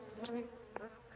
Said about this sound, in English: I got all the bees in.